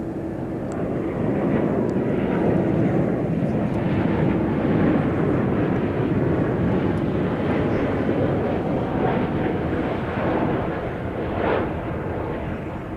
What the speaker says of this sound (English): We are going to tear away from that for a moment to get the 777 coming in from London.